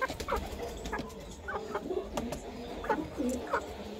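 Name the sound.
Silkie hens clucking in a breeding loft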